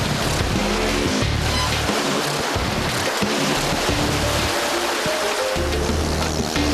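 Ocean waves on a South Pacific shore churn and wash in a constant, loud, close roar, with a low rumbling surge rising and falling underneath.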